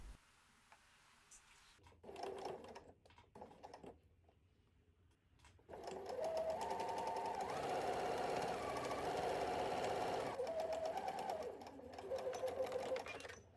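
A sewing machine stitching a skirt's facing along the waistline: short stop-start bursts at first, then a long loud continuous run of rapid mechanical stitching up close, with no voices.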